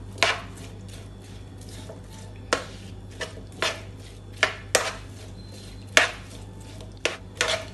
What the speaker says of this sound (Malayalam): ഇതെല്ലാം നന്നായിട്ട് മിക്സ് ആക്കി കൊടുക്കാം